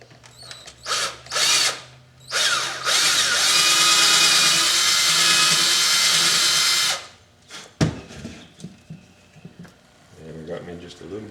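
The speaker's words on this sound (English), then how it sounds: "And then we'll just drill that hole right there." A power drill whirs loudly and steadily for several seconds, preceded by short bursts of the motor, with clicks and handling noises afterward.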